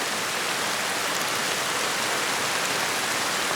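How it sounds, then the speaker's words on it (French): Steady, dense rainfall hisses evenly throughout, loud and close, with no talk or other sounds. "Est-ce que tu entends le grondement de l'orage et la pluie qui tombe?"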